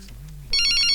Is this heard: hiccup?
no